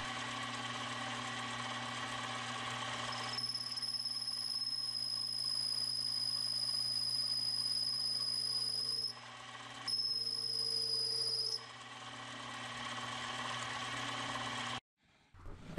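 Jewelry lathe re-beveling the edge and polishing a shamrock ring, a steady mechanical whine with a high tonal ring that runs continuously, drops briefly, resumes, then cuts out near the end.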